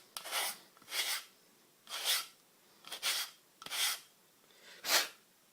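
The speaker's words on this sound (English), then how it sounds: "Basically just roughen up the rubber." Rubber shoe sole being roughened up by hand in preparation for a homemade skateboarding ollie patch, six separate slow abrasive scrubbing strokes, close and fairly loud, with no talk.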